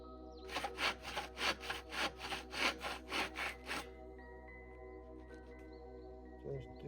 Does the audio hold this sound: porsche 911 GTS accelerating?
no